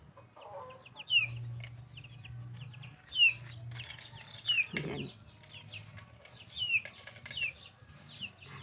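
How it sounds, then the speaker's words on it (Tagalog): Chickens cluck and call at intervals around a child playing among them in the provincial countryside, with a low steady hum beneath and a brief word spoken nearby. "Tignan mo ang mga manok niya."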